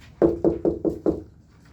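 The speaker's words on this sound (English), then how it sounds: "So you're going to knock on the door." Five firm knocks on a door in a steady quick rhythm, close and clear, then silence.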